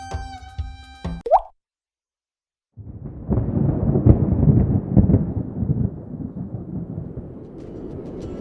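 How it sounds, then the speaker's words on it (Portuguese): Animated-film storm effect for a hailstorm: after a brief musical tone and a moment of silence, a loud rumbling roar of thunder and pelting hail builds and rolls on steadily, with no voices. "Moisés estende suas mãos ao céu e a grande tempestade começa."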